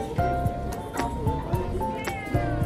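Cats scuffling and meowing at each other indoors, with short repeated meows and yowls over a soft background hum, fairly close but moderate in loudness.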